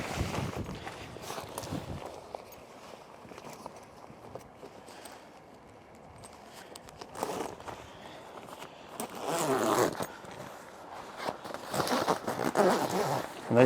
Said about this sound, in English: they're quite heavy duty zips as well